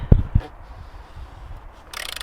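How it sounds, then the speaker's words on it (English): A torque wrench clicks while tightening the sump plug on a Mk4 VW Caddy, two sharp close clicks near the start followed by quiet, then a brief metallic rattle at the end. "And then you're just going to wind it until it clicks. The torque wrench clicks."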